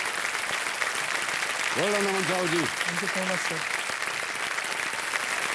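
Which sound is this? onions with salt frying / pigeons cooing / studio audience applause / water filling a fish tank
studio audience applause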